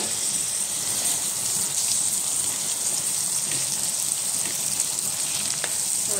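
Tomato, onion and potatoes frying together in a pan, a dense even sizzle like steady rain that holds at a constant level throughout, with faint stirring, no talking.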